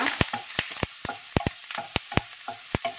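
Ginger, garlic and green chillies frying in a pan over a low flame, giving a soft sizzle broken by sharp, irregular spitting pops and clicks.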